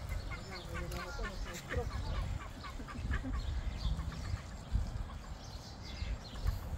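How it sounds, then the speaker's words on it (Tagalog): Ducks and other farm fowl call repeatedly in short quacking and clucking bursts at a farm in New Zealand, heard under steady conversation with constant low outdoor rumble. "May 3 bibe akong nakita."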